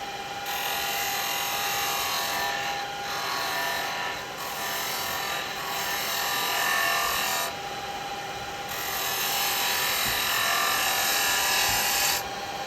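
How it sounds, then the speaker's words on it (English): Wood lathe spinning a workpiece while a small detail chisel takes a finishing cut, giving a steady close rasping scrape over a constant motor hum, with brief pauses and shifts in the cutting pressure. "Now start getting a finish cut on that, and we're going to use a detail chisel to get a decent finish cut."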